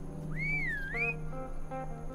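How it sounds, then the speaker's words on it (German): A stranger in the video game Saloon Simulator whistles a single rising and falling note, clear and close, over a quiet game music background. "Was pfeift er mich so blöd an?"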